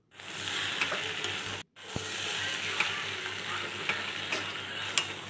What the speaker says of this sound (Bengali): এবার উপর দিয়ে ধনেপাতা কুচি ছড়িয়ে দিয়ে আবার একটু নেড়ে চেড়ে নেব।